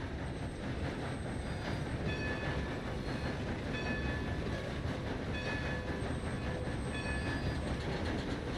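A steam-era train rolls along in Red Dead Redemption 2, a continuous loud rumble of wheels and carriages with faint rhythmic clatter and metallic squeal tones, no voices.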